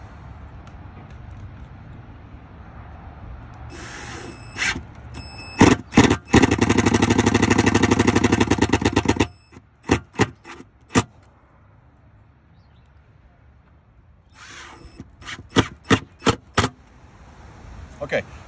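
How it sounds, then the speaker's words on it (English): An impact driver drives screws into a boat deck while a recessed foot pedal tray is installed. It fires in one long rattling burst, then several short sharp bursts with pauses between them, all close and loud. "you're putting this thing in there using an impact"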